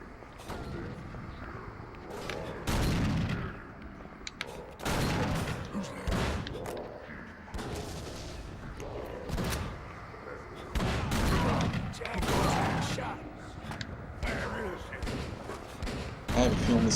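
Gunfire in the horror game Call of Cthulhu: Dark Corners of the Earth, a series of loud, heavy shots and thudding impacts spaced irregularly across the scene, interleaved with talking.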